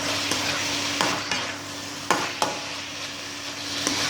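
Eggplant and pork belly are stir-fried in a pan, a soft sizzle running underneath as a utensil scrapes and knocks against the pan in several sharp, irregular clacks.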